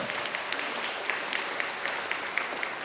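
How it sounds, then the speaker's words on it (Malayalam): A church congregation clapping, a soft, fairly distant patter of many hands that stays even throughout, with no clear voices. "നന്നായിട്ട് നല്ല സ്വരത്തിൽ കൈയടിച്ച് കർത്താവിനൊന്ന് മഹത്വം കൊടുക്കുക."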